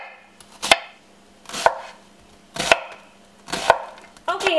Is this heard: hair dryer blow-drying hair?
no